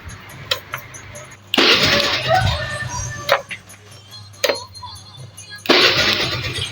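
A carburetted Honda Vario scooter is started several times. Each try brings a loud, close burst of engine turning and revving that drops back between attempts, with a faint voice now and then.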